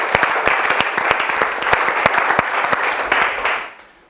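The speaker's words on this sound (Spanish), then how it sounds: "Un aplauso para Cristo y para él." Audience applause after a speaker is introduced at a Bible institute theology class, steady dense clapping from a crowd that fades out at the end.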